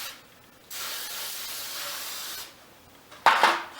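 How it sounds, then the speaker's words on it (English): Baking spray containing flour hisses from an aerosol can into a pan for pumpkin bread, a steady spray of about two seconds followed by a shorter, louder close-up burst. "So this is just like a baking spray that has a little bit of flour in it, so it doesn't stick to the side."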